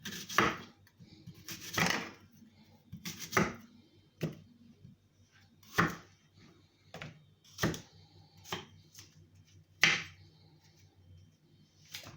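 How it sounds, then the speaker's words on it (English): A knife chops apples on a cutting board in sharp, separate strikes spaced a second or two apart, close and fairly loud, with quiet pauses in between and no talking. "I've just cut up all my apples"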